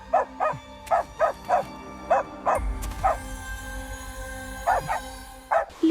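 A dog barks repeatedly and sharply, about a dozen close, loud barks in quick bursts with short pauses, a deep rumble underneath partway through.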